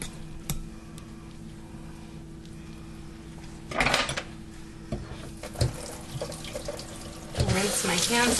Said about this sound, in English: Rinse my hands off and clean off this counter a little bit.